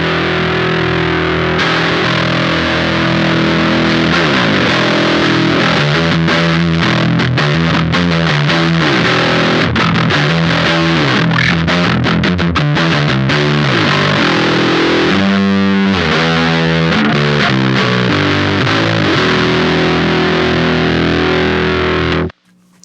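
An electric guitar plays through a Beetronics Abelha distortion pedal with its low control turned up, producing a loud, thick, fuzzy riff of sustained chords and chugging notes that stops abruptly at the end.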